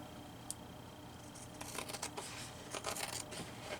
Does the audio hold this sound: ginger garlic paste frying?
no